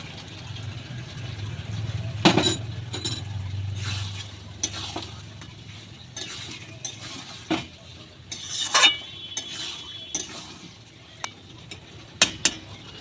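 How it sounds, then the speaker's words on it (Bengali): Yogurt being stirred into sautéed pointed gourd in a pan, with intermittent scraping and clinking of a spatula and a soft sizzle underneath, close and alone without talk. "আমি দই দিয়ে ভালো করে মিশিয়ে নিয়েছি"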